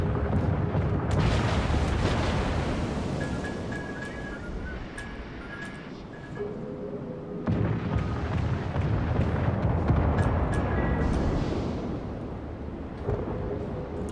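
Incoming shells explode around a HuangHe cruiser in World of Warships, a series of heavy booms and rumbling blasts that roll on continuously, with brief tonal game alerts over the din.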